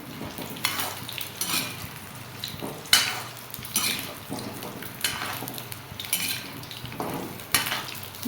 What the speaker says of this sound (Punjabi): ਹੁਣ ਆਪਾਂ ਇਹਨਾਂ ਨੂੰ ਮਿਕਸ ਕਰਾਂਗੇ ਬਹੁਤ ਹੀ ਚੰਗੀ ਤਰ੍ਹਾਂ ਆਪਾਂ ਨੇ ਮਿਕਸ ਕਰਨਾ ਹੈ